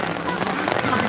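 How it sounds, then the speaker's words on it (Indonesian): Heavy rain pours steadily during a youth football match, a dense, loud hiss that fills the whole moment without a break. "Hujan semakin deras."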